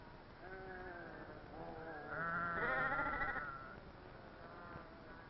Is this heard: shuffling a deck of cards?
no